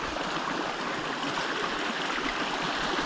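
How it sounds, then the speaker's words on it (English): A mountain creek in early June runs steadily and loudly, a constant broadband rush and gurgle of flowing water close by with no breaks. "I'm gonna cross the creek right here."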